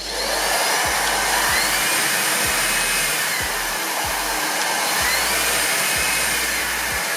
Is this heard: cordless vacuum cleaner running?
yes